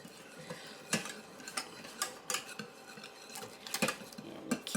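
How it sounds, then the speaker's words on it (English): Whisk clinking against a bowl while evaporated milk is beaten for cheesy baked spaghetti, a steady run of close, light metallic taps and scrapes with no voices. "Keep on a whisking."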